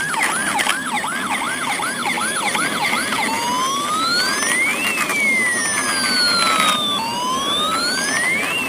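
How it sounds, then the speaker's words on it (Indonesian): A toy ambulance's wailing siren runs steadily, first a quick warble, then slow rising and falling sweeps, loud and close against a faint background hiss. "Ada mobil ambulan."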